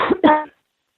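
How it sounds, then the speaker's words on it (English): A single short, harsh cough in two bursts, close and fairly loud, followed by silence. "Sorry, I was coughing."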